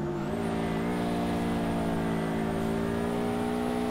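A car drifting in the video game DRIFT21 holds a loud, steady engine drone at high revs with a sustained tonal whine, continuous and close with no talk over it.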